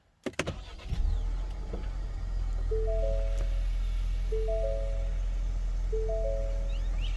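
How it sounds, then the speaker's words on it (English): A 2021 Ford Explorer Limited engine cranks and catches, then settles into a steady idle while a three-tone electronic chime repeats several times. "let's start up the Explorer"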